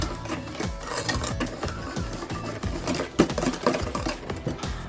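Chocolate fondant batter with butter being mixed, a rapid rhythmic scraping and beating of the utensil in the bowl, steady and moderately close, with no talk.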